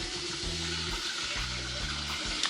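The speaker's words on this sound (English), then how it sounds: "First put some water." Water poured from a tap into a cup while making a Freddo Espresso, short bursts of splashing and filling noise starting and stopping about twice, close by, with no talking.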